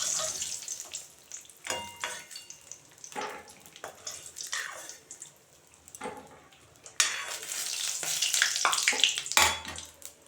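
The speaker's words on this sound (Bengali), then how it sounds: "কটা বড়ি দেব, বড়ি ভেজে নিচ্ছি।" Lentil dumplings (bori) frying in a pan of oil, a steady crackling sizzle broken by bursts of louder spattering and scraping as they are turned, with no talking.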